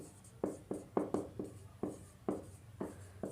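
Chalk or marker strokes on a board during a chemistry lecture, about a dozen quick scratchy taps in an uneven rhythm, close and clear with no talking.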